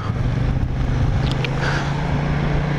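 A Kymco AK550 scooter's liquid-cooled twin-cylinder DOHC eight-valve engine runs with a steady low drone, close by and fairly loud, with some wind noise and no talking.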